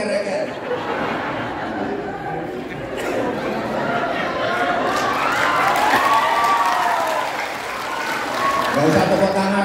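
Clapping and lively chatter rise from a crowd at an Isra' Mi'raj commemoration at the Indonesian consulate general in Jeddah, with laughter and voices mixed in, swelling mid-way and continuing to the end.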